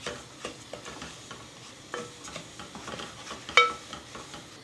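Lapsi, cracked wheat, roasting in ghee in a pan over a high gas flame, with a soft sizzle under repeated scraping and stirring strokes and an occasional sharper clink of the spoon against the pan, close and quiet.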